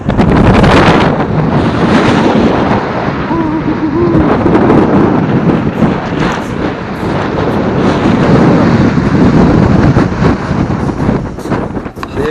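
Strong wind blusters across a beach, roaring loudly and continuously against the microphone, with a faint rush of surf beneath the buffeting.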